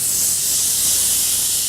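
Flank steak sizzles on a hot grill with a loud, steady, hissing crackle.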